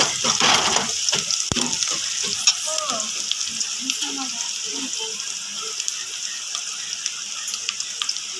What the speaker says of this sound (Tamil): கருவேப்பிலை, நல்லா பொன்னிறமாக வதங்கணும்.